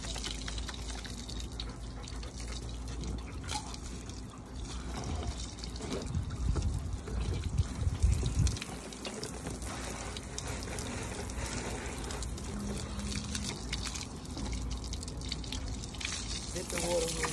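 Water pours steadily from a garden hose in a continuous splashing rush outdoors, with people talking over it.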